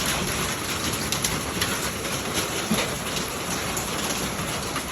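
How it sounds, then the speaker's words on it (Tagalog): Hailstorm pelting down in Winnipeg, Manitoba, a dense, steady hiss and patter of hailstones hitting surfaces, continuous and fairly loud throughout with no gaps. "Nag-hail storm ngayon dito po sa Winnipeg."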